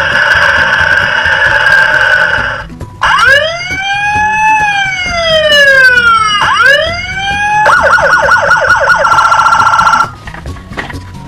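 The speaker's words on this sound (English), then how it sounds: "This police car is black, and it makes sounds and flashes its lights." A loud, close siren from a black toy police car cycling through wailing sweeps and rapid yelping pulses, cutting out briefly between patterns.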